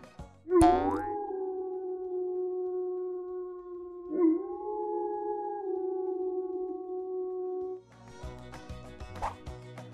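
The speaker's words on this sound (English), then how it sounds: "we'll listen to a wolf howl." A single long wolf howl rises sharply and then holds a sustained, wavering tone for about seven seconds, heard clearly and alone before giving way to a light musical jingle.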